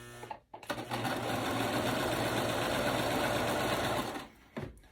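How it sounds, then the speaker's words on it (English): A sewing machine stitches a pillowcase, starting abruptly and running in a steady, fast, loud mechanical whir for several seconds before stopping, followed by a faint click. "I like to push on the foot and just let it go ahead and stitch all the way through"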